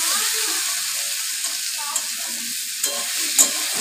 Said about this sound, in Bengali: এই দেখো আলুটা তেলে দেওয়া হয়েছে